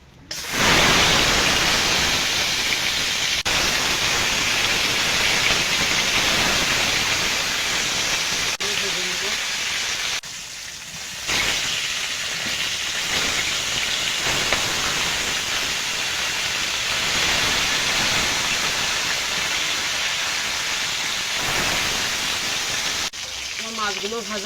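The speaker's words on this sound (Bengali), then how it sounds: "এবার মাছগুলো ভেজে নেব।" Fish frying in hot oil gives a steady, dense sizzle that runs loud and unbroken for the whole stretch, with brief dips and faint background sounds now and then.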